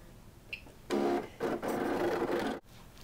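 A Cricut cutting machine cuts paper letters, giving a steady mechanical whir in a few bursts of motor and carriage movement, close and moderately loud, then stopping abruptly.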